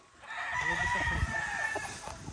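A rooster crows loudly and nearby at a small poultry farm, one long drawn-out call with other chickens faintly in the background.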